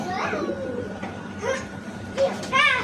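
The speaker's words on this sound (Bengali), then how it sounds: "এই যে দেখেন দুইটা কবুতর, গিরিবাজ কবুতর নিয়ে আসছে" Two Giribaj pigeons cooing nearby in a home, soft repeated coos with a louder call near the end, amid faint background voices of children.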